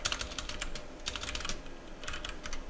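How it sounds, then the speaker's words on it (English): Quick bursts of keystrokes on a computer keyboard, close and fairly quiet, come in two clusters with a short pause between them. "Let's type that again."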